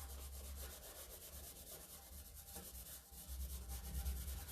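A Dixie Belle finishing pad rubs back and forth over a furniture transfer, a soft, steady, close scrubbing sound with no voices.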